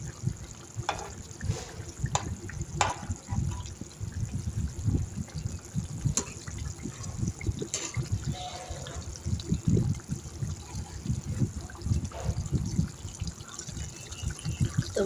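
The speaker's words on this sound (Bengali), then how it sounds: "এই যে আমার তরকারিটা ফুটে গেছে" Rohu fish kalia curry boiling in a pan makes a steady, close bubbling and gurgling of liquid that continues throughout without pause.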